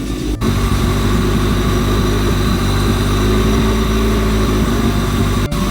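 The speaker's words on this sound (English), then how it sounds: "The idle is staying at a pretty good level right now" A car engine idles steadily and loudly after a Honda B-series engine swap with a new distributor, with an even low rumble and a constant mechanical drone, close up and without talking.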